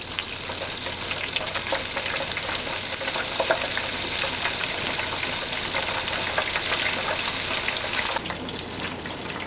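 Okra pieces frying in a pot of hot oil, giving a steady, dense sizzle with crackling bubbles that holds level throughout.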